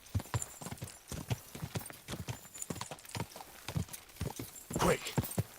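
Rapid, evenly paced hoofbeats of an upgraded horse trot along in the medieval game Kingdom Come: Deliverance 2, close and fairly quiet, with a brief rustling swell near the end.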